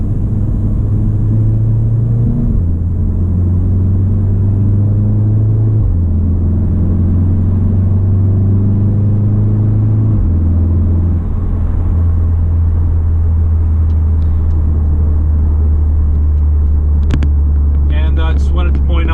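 A Volkswagen with an EQT Stage 1 tune drives along with a loud, steady engine rumble heard from inside, the drone stepping down in pitch at several gear changes, continuous throughout.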